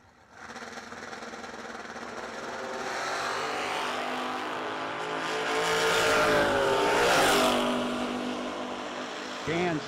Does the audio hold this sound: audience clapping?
no